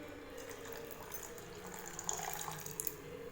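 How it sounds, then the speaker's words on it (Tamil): Fresh coconut milk pours into cooked rice kanji as a steady, soft liquid splash and trickle, faint and continuous, with a few small drips near the end. "இப்போ இது கூட வந்து நம்ம வந்து தேங்காய் பால் சேர்த்துக்கலாம்."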